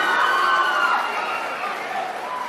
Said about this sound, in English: Give a big applause for that great boy.